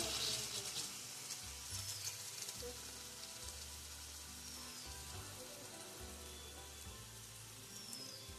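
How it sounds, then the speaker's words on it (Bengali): Steady sizzling and bubbling of doi katla, a yogurt-based catla fish curry, as water is added to the hot pan, a soft continuous hiss with a low rhythmic hum underneath. "এবার দিয়ে দিচ্ছি একটু জল।"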